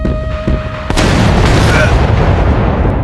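Artillery fires in the video game Shogun Empire as one sharp boom, then a dense, rumbling wash of battle noise carries on, with a voice speaking over it.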